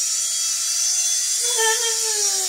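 A small remote control helicopter whines steadily as it lifts off from a hand indoors, its high motor pitch rising and shifting as the rotors spool up, close and continuous.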